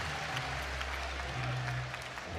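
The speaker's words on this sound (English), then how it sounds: "The crowd is showing great appreciation for Daniel Cardinas." College wrestling crowd at a Stanford versus Iowa State dual meet applauding, sustained dense clapping from a large arena audience, with a low hum underneath.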